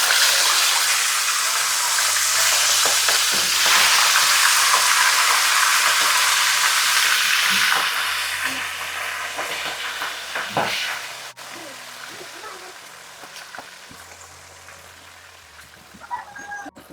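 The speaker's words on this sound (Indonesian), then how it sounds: "Kita mulai goreng ikan." Fish frying in smoking-hot oil, a loud crackling sizzle that is strongest early on and then settles into a quieter, intermittent spatter, with a rooster crowing in the background.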